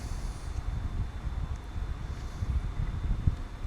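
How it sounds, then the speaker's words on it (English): Steady low wind rumbling and buffeting outdoors, a continuous broadband roar with gusty swells throughout and no talking. "It's quite windy today."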